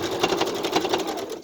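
A sewing machine stitches fabric face masks, running at a fast, steady rhythmic clatter close by for the whole stretch before stopping abruptly at the end.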